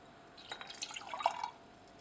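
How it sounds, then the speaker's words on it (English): Liquid filtrate poured into a glass beaker holding a stir bar, a short splashing trickle with a few bright drips and a small glassy ping, close and quiet, lasting about a second. "we're going to place our filtrate into here"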